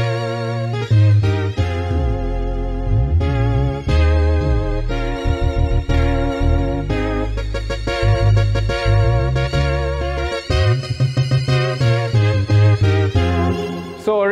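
Dense South African iTende-style keyboard groove, a steady bass line under the left hand and full chords on the right, continuous and loud with rhythmic bass pulses and no talking.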